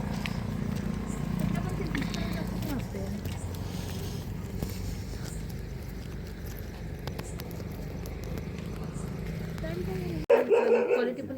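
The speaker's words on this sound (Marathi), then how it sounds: "हे कुत्रे सगळे कुत्रे एका जागी आले होते, त्यामुळे ह्यांचं भुंकणं चालू होतं" Several village dogs gathered in one spot bark at arrivals at a house, the barking mixed under ongoing conversation and steady outdoor noise, with a louder burst near the end.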